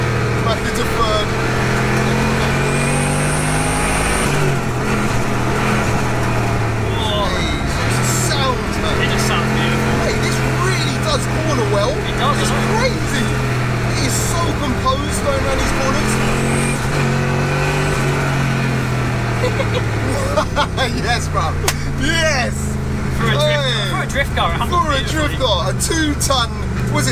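A home-built 750bhp Lexus LS400 drift car roars continuously while drifting, its engine rising and falling through hard revs with gear changes. Someone talks loudly over the constant engine noise.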